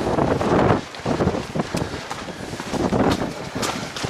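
Wind blows steadily during a foggy descent on technical, tropical terrain, buffeting the microphone with a constant broadband roar that rises and falls.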